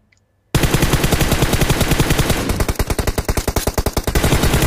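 Sustained automatic gunfire from a battle royale video game, loud and close, starting after a brief quiet moment and continuing as rapid, evenly spaced shots, with the bursts turning slightly more spaced toward the end.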